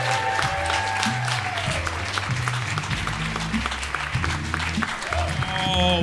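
Comedy club audience at the Emerald City Comedy Club in Seattle clapping and cheering as the next comic is introduced, a dense continuous wash of applause with whoops and shouts, steady throughout.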